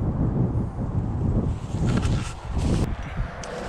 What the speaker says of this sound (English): I turned the wind mode on, but we're fighting the wind